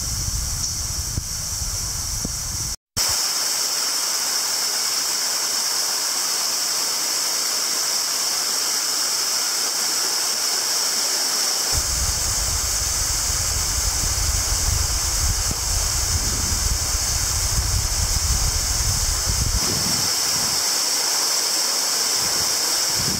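Waterfall number six in Hidden Jewel Gorge, Australia, pours as a steady, loud broadband rush that runs the whole way through, with a brief dropout near the start and some low rumbling surges later on.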